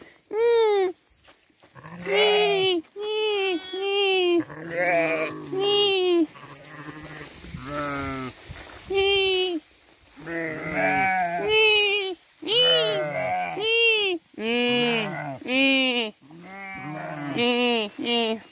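Young ewes and sheep bleat repeatedly in a steady series of loud, close calls on a farm, one after another with short pauses between them.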